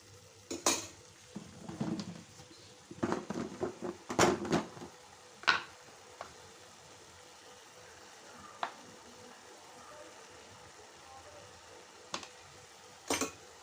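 A spoon stirs prawn gongura curry with chili powder in a pan, making scraping, clinking strokes against the metal in bursts, followed by quieter stretches with a few occasional knocks.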